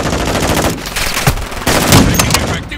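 Rapid automatic gunfire from a Call of Duty: Modern Warfare II team deathmatch, dense bursts of loud shots rattling close by with a few sharper cracks and brief gaps, no speech.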